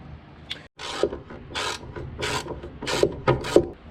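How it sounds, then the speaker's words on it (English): A ratchet tightens a clamp on a quarter-sawn wooden table in a woodshop, giving close, loud bursts of rasping clicks in uneven strokes, with short pauses between pulls. "I think I can do it with a ratchet."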